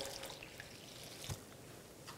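Water pours into the middle of a bowl of flour while bread dough is being made, a faint, soft trickle with a small splash partway through, in a quiet kitchen.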